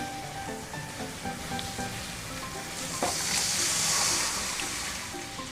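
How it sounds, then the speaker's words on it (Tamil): Steady frying sizzle from an onion-tomato egg curry as water is added to the simmering pan, a continuous close crackle that swells briefly midway, with no talking. "இப்போ இந்த ஸ்டேஜில் நம்ம குழம்புக்கு வேண்டிய தண்ணி ஆட் பண்ணிக்கலாம்."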